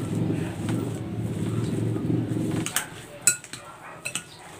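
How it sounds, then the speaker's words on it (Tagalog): Utensil scraping and stirring through a sugar, grated coconut and butter mixture in a pot, a steady low churning that stops, followed by a few sharp clinks of metal against the pan. "Haluin natin ulit."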